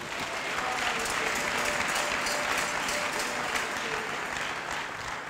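A church congregation applauds steadily to acclaim the Lord, dense sustained clapping that fills the room at an even loudness and tapers slightly at the end.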